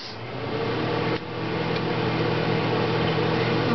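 Microwave oven melting a tablespoon of butter in a mug, a steady close hum with a faint low drone, alone and unbroken apart from a brief dip early on.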